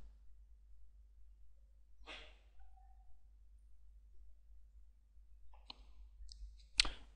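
Computer mouse clicks while editing a WordPress menu, a few quiet sharp taps spread across a near-silent stretch with a low steady hum underneath, including a tight pair of clicks near the end.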